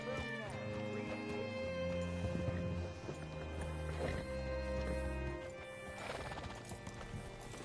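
A horse in the Red Dead Redemption 2 video game neighs and its hooves clip-clop on the ground at a ranch, close and clear over a music bed.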